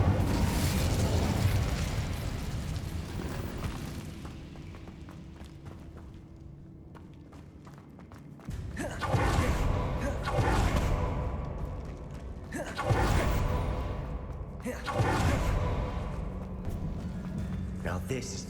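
Incendio fire spell cast in a video game, a loud burst of whooshing flame and booming roar repeated in surges amid continuous game sound and music, with a voice speaking.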